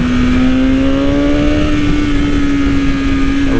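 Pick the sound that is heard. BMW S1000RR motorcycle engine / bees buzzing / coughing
BMW S1000RR motorcycle engine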